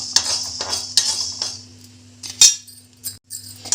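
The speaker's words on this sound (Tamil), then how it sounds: "அதனால் அடுத்து மிளகு வறுத்துக்கலாம்." Black peppercorns are dry roasted in a pan, giving bursts of rattling, scraping and small clinks as they are stirred, with short pauses and a low hum underneath.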